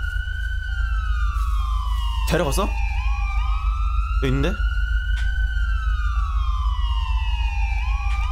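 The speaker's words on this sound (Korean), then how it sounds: "아 사이렌 꺼!" A police car siren in the video game GTA V wails in long rising and falling sweeps, loud and continuous, with short bursts of yelp tones and brief speech over it.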